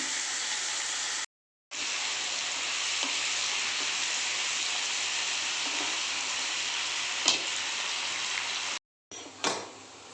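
Spiny gourd and potato pieces fry in oil in a pan, giving a steady, loud, continuous sizzle with brief stirring scrapes, broken by two short silences.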